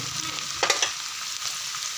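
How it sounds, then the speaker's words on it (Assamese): Bay leaves and dried red chillies sizzle steadily in hot oil with browned onions for a mutton curry, with a brief louder stir partway through and no talking. "ইয়াতে মই তেজপাত শুকান জলকীয়া গোটেইবিলাক দি দিছোঁ।"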